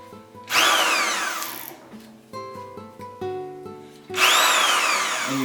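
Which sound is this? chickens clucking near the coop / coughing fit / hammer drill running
hammer drill running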